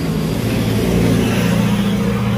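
A car drives close by with a steady, loud engine and tire rumble, rising a little as it passes, with no talk over it.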